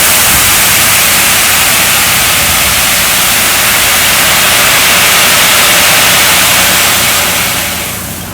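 A load of stones tipped from a delivery truck at a chateau keeps pouring in a loud sustained rushing hiss, then tapers off near the end.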